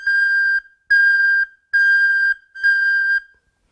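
A recorder head joint blows four separate steady whistle-like tones, each about half a second long with short gaps between them, tongued in an even repeated pattern. The notes are clear and close, with no voices.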